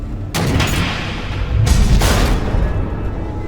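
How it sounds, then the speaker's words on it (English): Missile explosions in Batman: The Telltale Series game erupt as two loud, deep booming blasts about a second apart, each with a broad rumbling tail, close and heavy, without speech. "The missiles."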